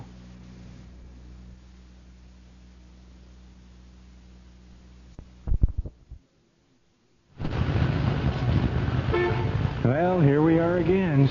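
Car horns honk in a traffic jam as a radio drama sound effect, with steady traffic hiss, a few sharp bursts, a brief silence, and then louder overlapping toots and blares that waver in pitch.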